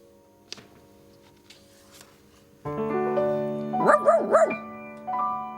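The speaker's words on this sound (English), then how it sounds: "This is the dog who mustered the sheep that stood in the field and ate the grass." A dog barks a few times in quick succession over a steady musical drone, following quieter ambient sounds.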